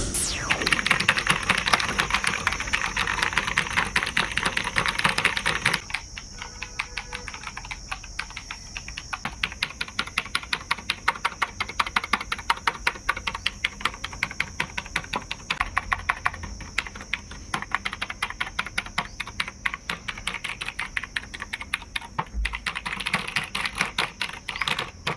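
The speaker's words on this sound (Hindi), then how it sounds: "चलो अब बिना किसी और बात किए सुनते हैं इसका असली टाइपिंग साउंड।" Steady, close-up typing on a TVS Gold Bharat keyboard with Cherry MX clone switches, a dense run of crisp mechanical clicks and clacks with a brief pause near six seconds, alone with no talking.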